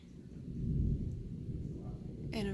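A low rolling rumble of thunder from a storm builds and swells over a steady wash of rain, then a brief sharper crackle cuts in near the end, with no voices.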